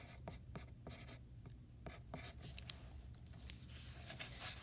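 Pencil scratching words onto paper while labeling a value scale for drawing, a run of short dry strokes and taps, close and quiet, with no talking.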